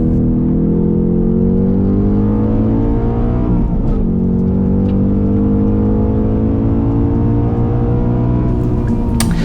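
A 2021 Ford Mustang Mach 1 on the Queensland Raceway track, its engine droning loud and steady with layered harmonic tones, briefly dipping as the driver backs off the throttle near the middle, then holding on again, with no talking.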